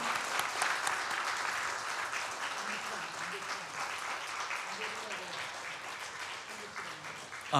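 A church congregation applauds steadily at a Sunday worship service to welcome first-time and returning visitors, a dense, sustained clapping that fills the room at even volume, with some voices faintly mixed in.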